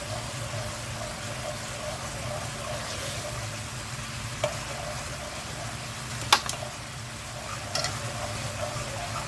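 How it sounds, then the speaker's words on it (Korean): Soy sauce and corn syrup bubbling as they come to a boil in a pan while being stirred for a chili bugak stir-fry, a steady close simmering hiss with a few light scrape clicks. "이렇게 바글바글 끓어오를 때까지 이렇게 좀 저어주세요"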